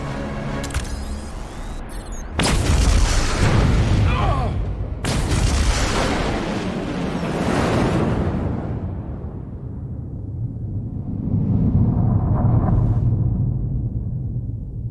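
Large explosion from a detonation in the Star Trek Resurgence video game, a loud booming blast after a short lead-in, followed by a long rumbling decay and a second swell of low rumble.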